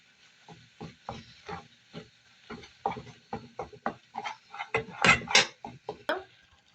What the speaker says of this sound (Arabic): نقلب البشاميل كويس جدا